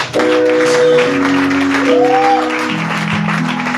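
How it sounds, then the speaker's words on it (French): An audience in a church applauds during a preaching service in Johannesburg, a loud, sustained clapping that lasts several seconds alongside tonal music or singing. "est-ce qu'on peut acclamer?"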